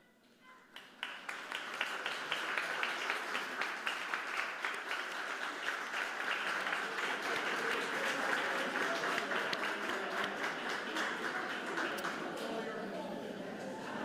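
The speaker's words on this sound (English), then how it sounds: "would you please stand for a round of applause?" Applause for faculty and staff at a Lewiston High School graduation ceremony, a large crowd clapping steadily and fairly loud for over ten seconds after starting abruptly, with some voices mixed in.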